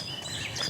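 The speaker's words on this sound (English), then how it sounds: "For me, I heard various birds, some bird wings flapping, birds chirping." Faint, high bird chirps over quiet outdoor ambience, brief and soft.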